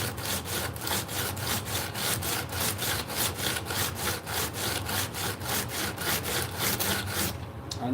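A big metal chisel being ground or filed down by hand in a steady back-and-forth rhythm of about two rasping strokes per second, close and loud, running unbroken for several seconds.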